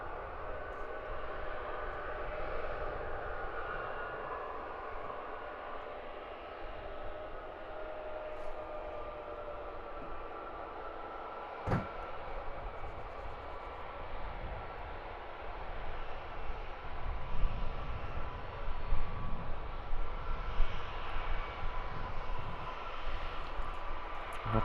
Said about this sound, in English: Planes just keep coming.